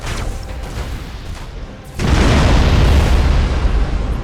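Torpedo explosions striking ships in the space battle game Battlefleet Gothic Armada 2, a muffled rumbling blast that swells into a heavy, sustained roaring boom halfway through, loud with no voices.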